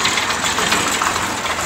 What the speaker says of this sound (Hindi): ये ट्रैक्टर आ रहा है पीछे से